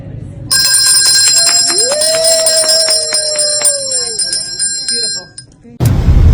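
A hand bell rung hard for a wish produces a loud, sustained metallic ringing that carries for several seconds, with a rising tone in the middle, before it cuts off abruptly.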